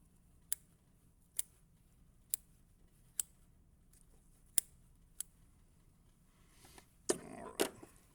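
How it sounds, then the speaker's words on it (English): Large dissection scissors snip during a cat dissection, about seven sharp, faint clicks at a steady pace, then a couple of louder rustling cuts at the end, with no talk. "I don't like these small scissors. Let's go with the bigger ones."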